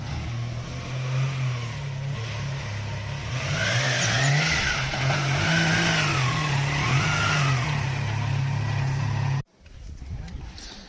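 A car engine runs close by, rising and falling as it revs several times with a steady rumble, people talking faintly underneath, before cutting off abruptly, near a swimming pool area.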